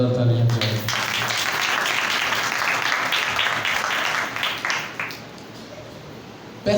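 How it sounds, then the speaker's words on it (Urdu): Congregation applause during an Urdu-language evangelical church sermon: a dense, sustained burst of clapping that swells for a few seconds, then thins out and fades near the end. "خدا کی محبت کے لیے زوردار تالیاں بجائیں۔"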